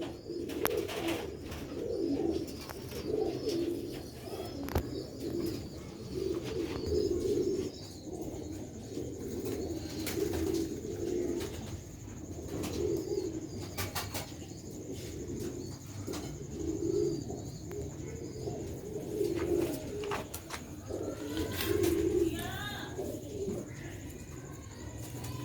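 Sialkoti pigeons coo steadily in repeated low, throaty rolls close by, with occasional faint chirps in the background and no talk.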